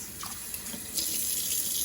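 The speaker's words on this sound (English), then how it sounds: "So I'm gonna fill it with water." Water runs from a tap into a bowl of rice for rinsing, a steady gushing stream that grows fuller partway through, close by with no talking.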